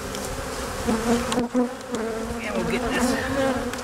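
Honeybees buzz loudly and continuously around an opened hive being smoked, a dense droning hum close by, while someone speaks briefly over it.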